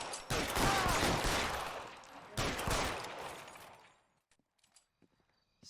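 Rapid gunfire in the LA Noire video game comes in two dense, loud bursts of repeated shots, then a ringing tail that fades into a few faint scattered clicks.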